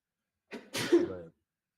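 A single sharp sneeze bursts out close by, a short breathy intake followed by a loud explosive release, then silence.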